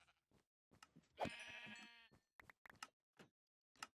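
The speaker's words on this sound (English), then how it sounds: "I'm just going to kill these sheep real quick." Sheep bleating in Minecraft: one long, loud wavering bleat stands out amid scattered short clicks and hits, with no talking.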